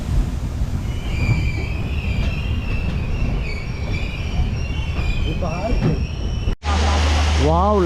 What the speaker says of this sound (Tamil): ட்ரெயின் வந்து அன்அஃபிஷியல் ஹால்ட் நிப்பாட்டியிருக்காங்க